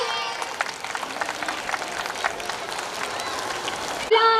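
A crowd applauds at a primary school's annual sports day, a dense wash of clapping heard from a distance, then a voice cuts in briefly at the end.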